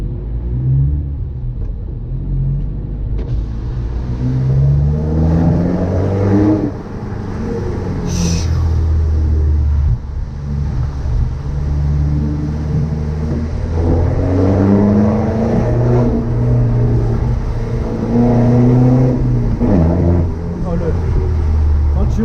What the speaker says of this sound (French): un 2 litres fait vraiment beaucoup de bruit